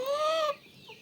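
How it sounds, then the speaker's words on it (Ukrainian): A single drawn-out call from a hen with chicks, close and fairly loud, followed by a faint, higher chick chirp. "Ось такі мої курчата."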